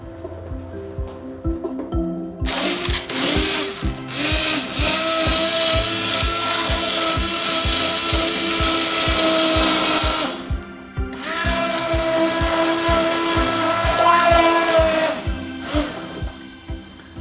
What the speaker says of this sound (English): I think I can start to liquidise this now